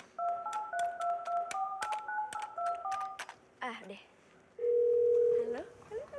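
A telephone number is keyed in as a quick series of paired DTMF beeps, then a steady dial tone plays; short spoken words occur briefly between them on a comedy stage.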